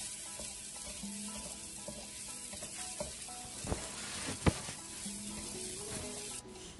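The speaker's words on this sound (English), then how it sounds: "We add the pork belly and we keep stirring it so that it releases its own fat and gets fried." Pork belly frying in a hot pan while being stirred, a soft steady sizzle with a few sharp utensil clicks and scrapes, fairly quiet overall, no talking.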